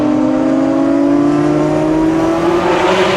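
A Ferrari F40 and a Porsche Carrera GT accelerate hard in a tunnel. Their loud engine notes climb steadily in pitch and echo off the tunnel walls.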